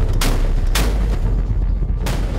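Three heavy, booming blasts from a German Navy warship's deck gun, spaced roughly half a second to a second apart, loud and close with rumbling low end.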